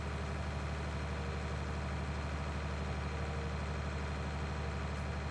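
A combine harvester's engine in the farming game Farming Simulator 19, a steady, dense mechanical drone with a low rumbling idle and constant hum, unchanging and loud throughout, with no one talking.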